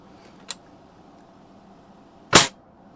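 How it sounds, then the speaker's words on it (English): A Daisy 120 pellet rifle fires at a target, a single sharp, loud crack late in the moment, preceded by a small faint click, against a quiet background. "now we're going to shoot the witch"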